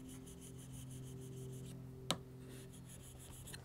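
A blade is drawn across a sharpener to remove the burr, giving a steady, faint rasping rub close by for several seconds, with one sharp scrape partway through and no talking.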